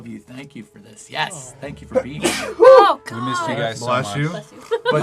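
A single sharp sneeze bursts out amid lively conversation at a tabletop role-playing game session, close to the microphone, with several people talking and chuckling around it.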